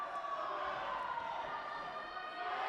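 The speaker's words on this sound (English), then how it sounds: "a big scream and a big cheer from the crowd" A crowd cheers and yells at a bouldering competition, the last boulder of the provincial finals, a steady wash of distant voices and whoops that fills the whole stretch without a break.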